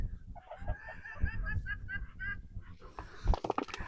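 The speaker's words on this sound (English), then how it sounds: "They're my duckies that are all male, I think." Several male ducks on a Bulgarian homestead quacking and chattering close by in short, overlapping calls that continue for a few seconds.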